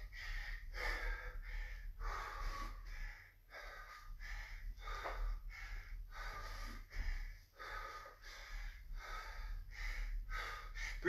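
Slow, audible breaths in and out during a controlled squat-style leg exercise, a regular rhythm of close breathy puffs with brief pauses between them, no speech.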